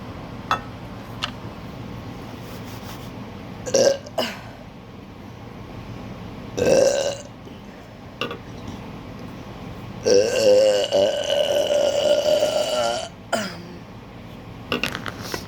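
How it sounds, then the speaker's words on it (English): A man burps on command, letting out several loud, drawn-out belches of varied length, one long sustained croak near the end, with quiet pauses between them and no speech. "So maybe I should do a compilation of me burping"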